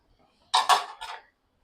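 Roasted Lijjat papad is crumbled by hand into a pan, giving three quick, crisp crunching bursts close up, separated by short silences, with no talking.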